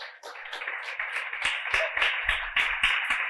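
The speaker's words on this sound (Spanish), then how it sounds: "Un aplauso al Señor." Church congregation applauding together, a dense burst of many hands clapping that stays steady and fairly loud for a few seconds with no talk over it.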